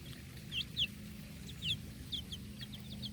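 Several chickens cluck in short, quick bursts over a low steady hum, a few hens sounding close and others farther off.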